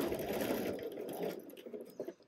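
A sewing machine runs close up, stitching elastic in a crisscross on ponte pants, with a steady whirring drone that slows and breaks into a few short stuttering bursts as it stops.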